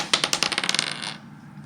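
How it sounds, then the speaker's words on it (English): A thrown die clatters across a hard surface, a quick run of sharp ticks that slows and fades over about a second before stopping. "Here's the die. We're going to throw it."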